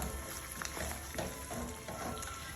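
Canned tuna is sautéed with garlic and capers on medium heat, giving a quiet, steady sizzle broken by soft, irregular stirring scrapes and clicks in the pan.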